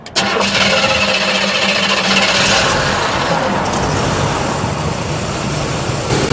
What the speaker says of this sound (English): And now I'm going to shut the engine and restart it.